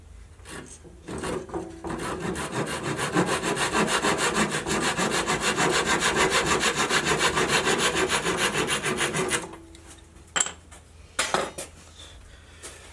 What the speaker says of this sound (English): guess there are two pieces that I need to cut